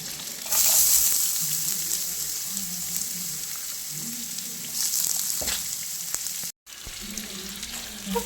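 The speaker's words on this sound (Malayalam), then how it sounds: "അതിലേക്ക് ആവശ്യമുള്ള തേങ്ങ ഇടാം" Grated coconut is dropped into a hot frying pan while cooking goat head thoran, giving a loud, close, steady sizzle that runs unbroken for the whole stretch, with a brief cut near the end.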